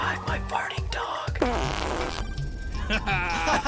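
A dog lets out a fart, a raspy buzzing burst among bursts of close, animated talk and laughter from people in a recording session.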